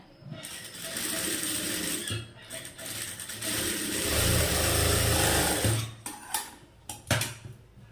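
A sewing machine runs in a steady mechanical whir while rough tacking stitches are run into fabric, with short stops and clicks near the end.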